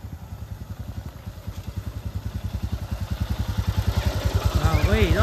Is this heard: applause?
no